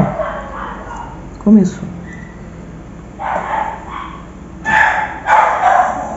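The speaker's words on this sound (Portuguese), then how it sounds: "E os cachorros já estão a todo vapor." Several dogs bark and yip nearby in repeated short bursts that rise and fall, mixed with someone talking.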